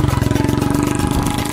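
A motorbike engine idles close by with a fast, even putter of regular pulses, loud and steady, briefly roughening near the end.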